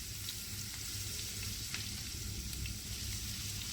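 Chopped onion fries in butter and oil with a steady, even sizzle and occasional faint pops, close and continuous throughout.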